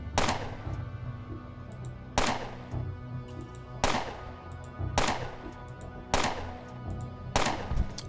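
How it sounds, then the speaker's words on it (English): Gunfire in the video game Underrail: five or six loud, sharp single shots spaced about a second or two apart, each with a short decaying tail. "we will fire on this guy a few times"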